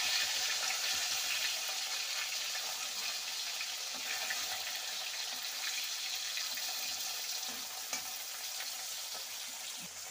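Several pomfret fish frying together in a pan for a curry with potatoes, a continuous even sizzle of hot oil that holds steady and fairly close, fading slightly toward the end, with no talking.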